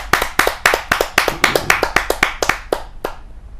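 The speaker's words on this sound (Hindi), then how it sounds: "जोरदार ताली के साथ हम उनका स्वागत करते हैं" An audience at a Hindi poetry gathering claps to welcome a senior poet, a fairly close burst of roughly a dozen sharp, evenly spaced claps that thin out and stop.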